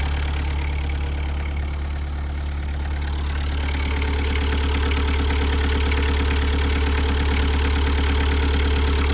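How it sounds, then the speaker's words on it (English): The 1.9 engine of a 1998 VW Caddy pickup idles steadily, a smooth low drone with a fast, even pulsing beat, close and alone with no talk. "That's a sweet engine."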